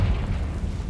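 A Confringo fire-blast spell explodes in Hogwarts Legacy, a heavy, low booming burst with a sustained rumbling roar that stays loud throughout its brief second.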